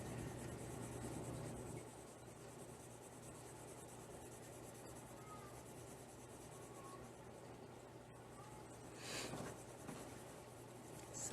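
Colored pencil shading on paper while coloring an amber gemstone, a steady soft scratchy rubbing that continues evenly and fairly close throughout, with a brief louder swell of scratching near the end.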